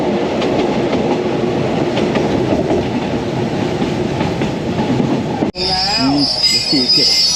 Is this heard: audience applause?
no